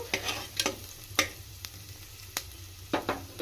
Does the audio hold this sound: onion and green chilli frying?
yes